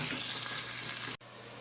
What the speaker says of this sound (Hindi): उसी ऑयल में हम प्याज़ों को फ्राई करेंगे।